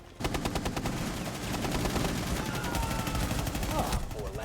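Rapid automatic gunfire in a Rainbow 6 shooter video game, a dense continuous burst of shots lasting several seconds, loud and close, with brief fast electronic blips near the end.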